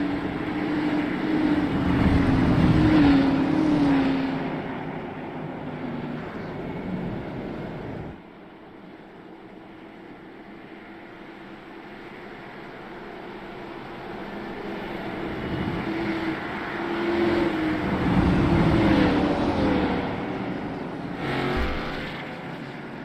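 Twenty-eight race cars start a race at Kansas in the iRacing sim game. The engine roar swells loudly, dips to a quieter drone partway, then builds again as the field accelerates, with no talking.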